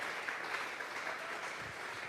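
Applause from a church congregation offered as praise to God, a brief steady patter of many hands clapping at low level, with no voices.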